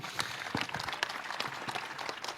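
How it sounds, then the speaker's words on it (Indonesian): An audience applauds a speaker at a forum marking 28 years of Reformasi. The clapping is moderate, somewhat distant and scattered, and carries on steadily through the short stretch with no talk over it. "Tepuk tangan Suparman Marzuki."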